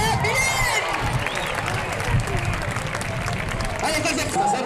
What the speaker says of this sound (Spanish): Ese fuerte aplauso para él